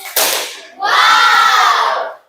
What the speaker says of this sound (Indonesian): Lebih keras, tepuk salut.